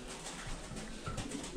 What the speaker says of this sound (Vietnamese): đây là trang trại chim bồ câu của anh khách ở Hải Dương nhé mọi người